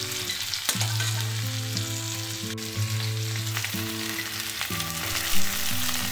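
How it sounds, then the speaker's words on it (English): Garlic, broccoli, carrots and onions stir-fry in butter with a steady close sizzle, a few stirring clatters and background music. "Stir fry for some time."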